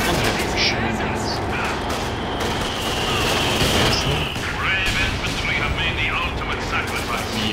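Mortar fire in the real-time strategy game Company of Heroes 2, a continuous wall of booming blasts and crackling gunfire that stays loud and dense throughout with no clear breaks.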